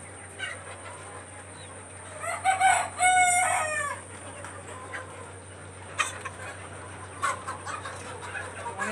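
A laying hen in a poultry shed gives a burst of loud clucks and squawks near the listener, then softer scattered clucks follow over a steady background hum.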